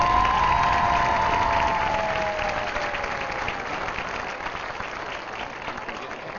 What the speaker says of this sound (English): Let's have a round of applause for Ethan Stout and Lauren Champion, your ru